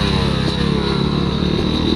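Dirt bike engine roaring steadily as the rider takes off during a hare scramble race at Battlecreek, a loud, continuous near motor drone with harmonic whine and no pauses.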